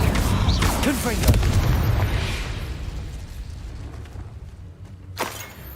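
A Confringo blasting spell in Hogwarts Legacy bursts into a heavy booming explosion that rumbles and fades over several seconds, followed by a sharp crack near the end.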